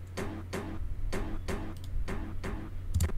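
A percussion sample loops in a music production sampler with no EQ, a steady run of sharp clicky hits over a low sustained bass hum, close and even, with no voices.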